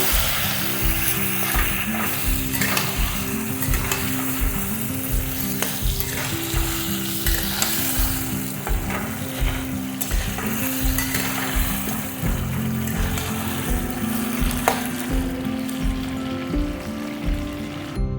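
Potatoes fry with ginger paste in a pan, sizzling loudly and steadily while being stirred, with repeated scraping strokes throughout and no voices.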